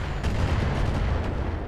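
Artillery barrage in the mech combat video game Roguetech, on the planet Astrokaszy: a dense, steady rumble of low booms and blasts that rolls on without a break.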